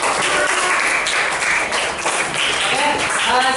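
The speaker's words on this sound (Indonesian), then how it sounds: "Beri tepuk tangan yang meriah untuk kita semua." Classroom applause from students after a group activity, a dense continuous burst of clapping at close range with voices mingled in throughout.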